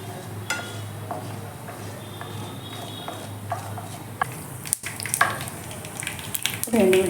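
Mustard seeds and cumin crackle in hot oil for a snake gourd seasoning, a continuous close sizzle dotted with sharp pops and sputters that grow busier toward the end, with no talk.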